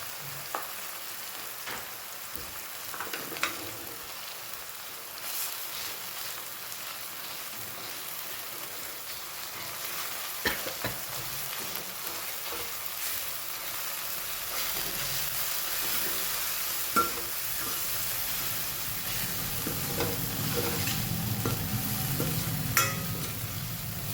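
Onion with garlic chutney fries in a pan with a steady, rain-like sizzle and occasional pops, close and continuous, growing slightly louder toward the end, with no voices.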